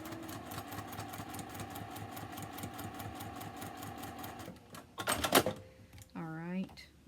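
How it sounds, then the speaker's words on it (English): A Juki TL 2010Q sewing machine stitches a quilt seam in a fast, even mechanical whir for several seconds, then stops; a few clunks and a short voice follow. "I'm going to sew this line right here"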